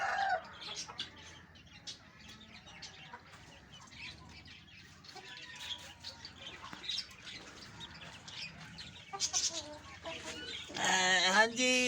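Aseel hens and a rooster on a farm cluck and squawk close by, with scattered calls building into a louder burst of squawking and wing flapping near the end.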